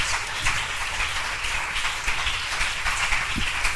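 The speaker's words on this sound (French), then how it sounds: "Alors on acclame bien fort le Seigneur Jésus-Christ." A church congregation applauds and cheers for Jesus Christ, a steady, dense roar of many hands clapping that carries evenly from start to finish, with no voice rising clearly above it.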